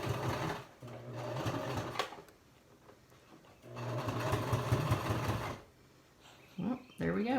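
A sewing machine stitches a fitted fabric mask in two sustained runs of steady, close, loud whirring, with quiet pauses between them and a short handling noise at the end.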